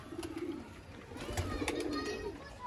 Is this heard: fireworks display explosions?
no